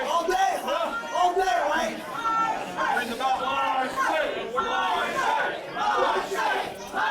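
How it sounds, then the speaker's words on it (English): A pro wrestling crowd at a live event roars and chants in rising waves, loud and close, with rhythmic swells of cheering throughout. "Crowd's trying to get Marche back in"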